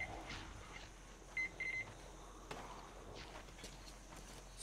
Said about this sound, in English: Stop beeping at me!